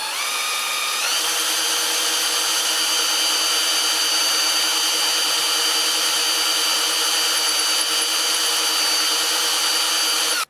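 A drill runs loud and continuous for about ten seconds, its steady high whine grinding as the bit bores into a broken Stihl chainsaw bar stud, with no talking.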